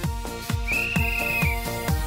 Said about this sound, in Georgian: თუმცა საჯის სასტვენის ხმა გაისმა და პირველი ტაიმი ამით დასრულდა.